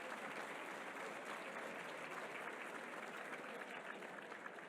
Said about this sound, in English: please give a round of applause to the chef and the wait staff